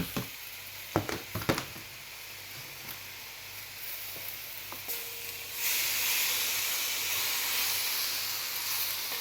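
Sweet peas and cabbage sizzle in a hot pan with chicken, a steady frying hiss that swells louder in the last few seconds, with a couple of sharp utensil knocks near the start.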